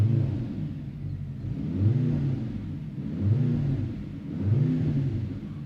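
Mercedes C63 AMG engine heard from inside the cabin, revving in three repeated swells that rise and fall with a deep rumbling tone, fairly loud with no talking.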